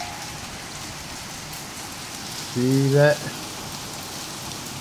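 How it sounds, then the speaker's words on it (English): Heavy rain from an intense spring severe-weather storm pours steadily as a dense, even hiss, while a person briefly speaks over it partway through. "If you saw the rainstorm, like this rainstorm"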